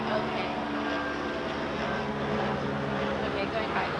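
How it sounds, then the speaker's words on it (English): A helicopter passes overhead with a loud, steady rotor and engine drone that holds at a constant level throughout. "a helicopter passes by"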